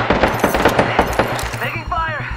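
Rapid automatic gunfire in the game Apex Legends, a loud string of close, evenly spaced shots that trails off into a short electronic whine at the end.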